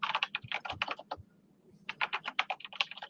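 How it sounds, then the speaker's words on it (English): Rapid clattering keystrokes on a computer keyboard during a meeting, two bursts of fast typing separated by a short pause, close and fairly quiet. "How can I hear you're typing?"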